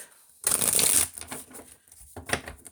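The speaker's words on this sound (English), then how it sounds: "I'm gonna go ahead and shuffle and pick" A deck of tarot cards being shuffled by hand, a crisp riffling burst lasting about half a second followed by softer card handling and a second short riffle, close up and alone.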